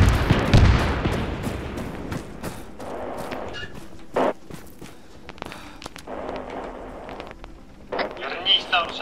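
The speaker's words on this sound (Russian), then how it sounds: "Вернись, там сейчас взрыв." A mined hangar exploding in the military video game ArmA 3: a loud, heavy blast with a deep rumble at the start, decaying into a long rolling tail with scattered thuds and distant cracks, while voices talk over it.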